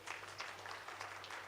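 An audience at a university career week event claps for a singer, a steady moderate patter of many hands with no voices over it.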